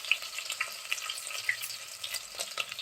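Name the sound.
onions frying in a pan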